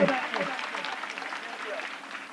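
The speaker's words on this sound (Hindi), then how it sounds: "सभी लोग हाथ उठा करके ताली बजाएंगे।" Clapping from the crowd at an inauguration ceremony for an RO plant and bakery plant, a dense patter that starts strong and fades slightly across a couple of seconds, with a voice briefly heard at the start.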